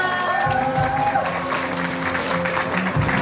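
Wedding guests applauding, a dense steady clapping mixed with some indistinct voices and background music.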